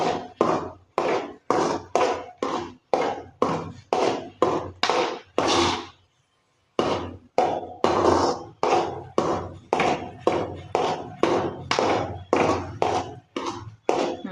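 Semolina kesari being stirred in a pan, wedding-style Tirunelveli recipe: steady rhythmic scraping strokes, close and fairly loud, with a short pause midway, no talk.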